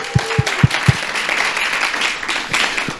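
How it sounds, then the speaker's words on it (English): Audience applause at a regional quick pitch competition: a few loud, close hand claps at the start, then a steady wash of clapping from a crowd filling the rest. "We can give a little round of applause for them."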